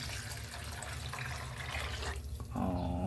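Water pours into a pot of mung beans being cooked with pork, chicharon and alogbati leaves, a steady close splashing and filling stream that brightens near the end.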